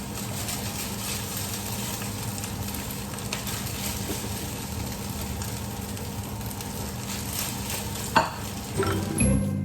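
Freshly cooked rice is stir-fried in a pan, with a steady sizzle and scraping stirs throughout and a sharper clatter near the end.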